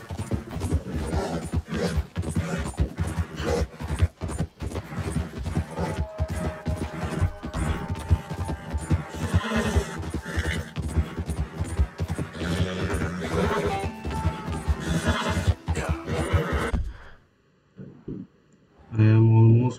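A horse in Red Dead Redemption 2 whinnies loudly amid busy game sound and hoof clatter, which runs steadily and then drops away near the end.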